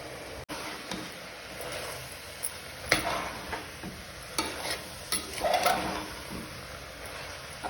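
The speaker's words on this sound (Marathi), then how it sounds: "मसाले मस्त फ्राय झाले" Spices frying with vegetables in a pressure cooker for veg biryani, a low sizzle broken by intermittent scraping and clinking stirs, close and quiet, with no talking.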